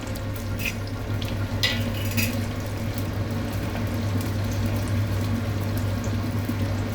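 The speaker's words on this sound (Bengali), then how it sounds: "তেলটা গরম হয়ে গেছে, এবার এর মধ্যে পেঁয়াজ দিচ্ছি ছেড়ে, পেঁয়াজ দিয়ে দিলাম" Chopped onions fry in hot oil in a pan while making handi chicken. The result is a steady, even sizzle with bubbling under a low constant hum, and no one speaks.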